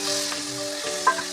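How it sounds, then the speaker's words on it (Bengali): Chopped onion and chicken sizzle briskly in a pan for a dish of egg chicken tadka, a close, continuous frying hiss with a brief clink of stirring. "এরপর পেঁয়াজ কুচি ও চিকেনকে সব কিছুর সাথে একটু ভাজা ভাজা করে নিতে হবে।"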